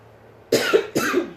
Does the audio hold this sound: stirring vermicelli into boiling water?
no